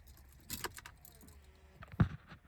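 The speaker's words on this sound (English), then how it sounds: "Got the keys right here." Keys jangle for a 1988 Ford F250 with a 460 engine on a cold morning, two sharp bursts of metallic clinking close by, separated by a quiet stretch.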